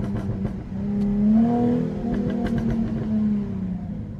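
Jaguar F-Type V6 S coupe pulling away in first gear on a private road, its engine note rising steadily under load and holding a loud, close, continuous growl throughout.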